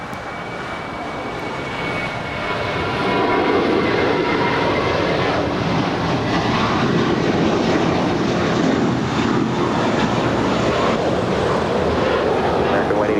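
A heavy airliner cleared for takeoff from runway 25 right at LAX builds to a loud, steady engine roar after about three seconds and holds it broad and rumbling, with faint radio-style voices under the noise.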